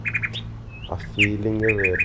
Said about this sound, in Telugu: పిచ్చుకల సౌండ్స్ ఎర్లీ మార్నింగ్ అవుతున్నప్పుడు